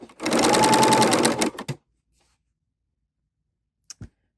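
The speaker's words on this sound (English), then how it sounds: "And then I'm going to sew off the edge." A serger runs loud and steady for about a second and a half as it sews a wide 2-thread wrap stitch off the edge of fabric. It stops abruptly and a couple of quick clicks follow after a silence.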